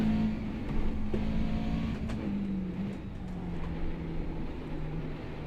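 A race car engine from a racing video game on the Nürburgring Nordschleife, McLaren MP4-30 among the cars, drones steadily with a sustained tonal whine that dips slightly in pitch, with no speech.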